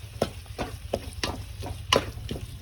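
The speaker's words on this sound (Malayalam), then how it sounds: "ഇത് എല്ലാ മസാലയും കൂടി നമുക്ക് മിക്സ് ചെയ്യാം കേട്ടോ" Biryani masala mix is stirred in a pan, with a spoon scraping in a slow repeated rhythm over a low frying sizzle, close and moderately loud.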